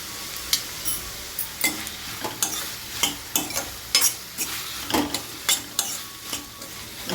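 Vegetables with turmeric sizzle in a pan while a spoon scrapes and stirs in quick, repeated strokes, close and clear.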